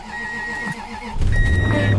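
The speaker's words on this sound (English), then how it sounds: "I think we should start up the car because it's so cold out" A car engine cranks and catches in cold weather, a short grinding start that jumps into a louder, rough idle close by.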